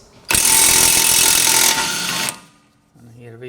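Harsh, loud metallic grinding and clattering from a chisel worked against the lip of a 32 mm axle nut on a CV axle, sustained for about two seconds before cutting off, then a voice briefly speaks.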